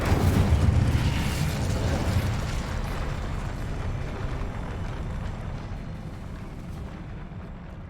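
A roaring Incendio fire spell blast in Hogwarts Legacy, a loud rumbling whoosh of flame that starts strong and slowly fades over several seconds, with no talking.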